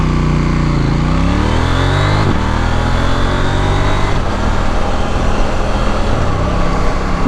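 A KTM Duke 790 motorcycle engine revs hard and pulls up through the gears, its tone climbing and dropping at each shift, loud and close, with no talking.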